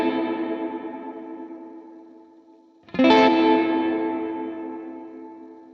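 A guitar chord rings through a Line 6 Helix dynamic room reverb with motion added to the tails. The first chord decays, then a second chord strikes sharply near the middle and fades slowly, its shimmering reverb tail wavering as it dies away.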